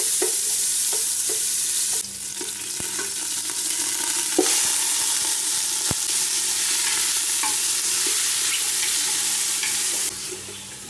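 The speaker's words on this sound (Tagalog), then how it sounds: "Luya guys, ang una natin igisa." Ginger sautéing in a pan for beef kinamatisan, a steady close sizzle with sharp scraping stirs and clinks of a utensil against the pan, no voices.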